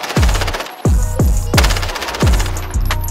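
Call of Duty Warzone gunfire: five loud, sharp bursts of shots at a steady rhythm, each with a deep booming low end and a ringing tail, close and dominant with no talking.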